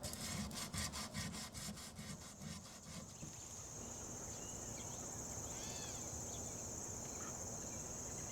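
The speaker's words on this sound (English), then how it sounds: "I think sanding will make the paint grip better." Hand sanding on an antique wooden music cabinet gives a rapid rhythmic scraping for the first few seconds, then fades into a steady low hiss with faint high chirps in the background.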